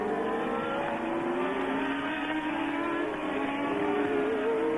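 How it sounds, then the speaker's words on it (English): Formula 1 cars at the 1982 Dutch Grand Prix hold a steady, loud, high-pitched engine drone throughout, with overlapping tones from several cars and no voices. "lapped, of course, by Nelson Piquet, which is in the 3rd of these 4 cars that we're looking at the moment"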